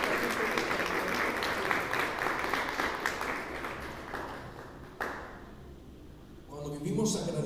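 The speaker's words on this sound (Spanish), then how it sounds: "Si va a aplaudir, apláudale fuerte a Jesucristo" A church congregation applauds loudly and steadily for several seconds, then the clapping fades and a voice begins speaking.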